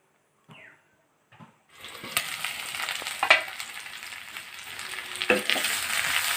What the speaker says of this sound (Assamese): আপোনালোকেও এনেদৰে লৰাই ভাজি থাকিব।